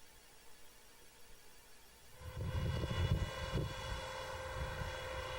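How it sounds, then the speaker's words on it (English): Small autonomous aerobatic model helicopter spinning up its rotor blades for an inverted takeoff: faint at first, then a steady loud whirring drone builds and holds with a rhythmic beat. "it spins up its blades, it takes off and does this inverted takeoff"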